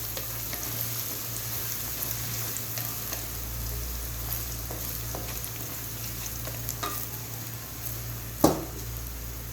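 Ginger garlic paste frying in a pot of oil for mutton pulao, a steady close sizzle with occasional stirring scrapes and one sharper clink near the end.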